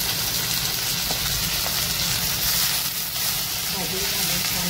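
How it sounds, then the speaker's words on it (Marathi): Fenugreek leaves sautéing with garlic and green chilli in a hot pan give off a steady, dense sizzle and hiss that runs unbroken throughout, with a few faint clinks of stirring. "भाजी घालून छान परतून घेऊया।"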